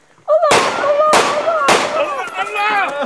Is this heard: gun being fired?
yes